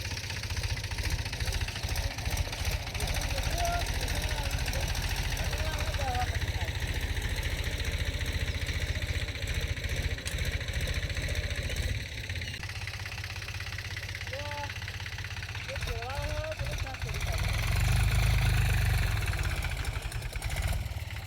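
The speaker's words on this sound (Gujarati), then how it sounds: "બંધ કરો ટ્રેક્ટર બંધ કરો." A tractor engine idles steadily and loudly for the whole stretch, a continuous low rumble with people talking over it, easing off slightly midway and swelling again near the end.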